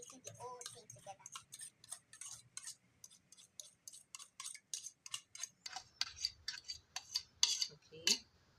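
Utensil mixing three mashed large bananas into wet banana bread batter in a bowl, a steady run of clinking, scraping strokes against the bowl that grow faster and louder toward the end, close up with no talk.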